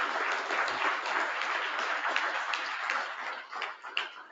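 An audience applauds a colleague named Kent at a talk on bigleaf maple sap flow and processing, steady many-handed clapping that sustains evenly before thinning slightly at the end.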